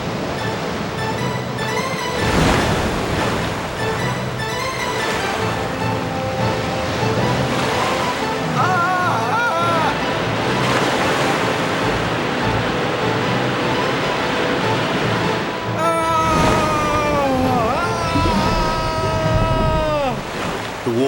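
Stormy sea surf crashes and roars loudly under gusting wind, a continuous churning wash with swelling surges and dramatic tonal sounds and voices mixed over it.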